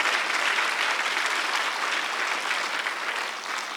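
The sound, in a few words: church congregation clapping hard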